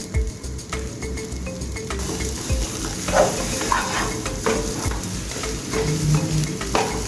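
Spoon stirring and scraping through egg devil filling in a pan after cumin powder is mixed in, with a steady low sizzle beneath the continuous close scraping.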